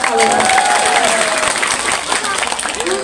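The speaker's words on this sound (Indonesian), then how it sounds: "tepuk tangan untuk kalian" Steady audience applause fills a Sundanese-language religious lecture hall, a dense even clatter of many hands, fairly loud and sustained, with voices and some tonal sound running underneath.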